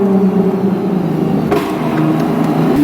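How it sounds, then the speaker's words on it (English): A Lexus IS350 with a modified exhaust idles and revs in a steady, loud rumble, with a few sharp pops and crackles breaking through near the end. "See if we can get some pops in here."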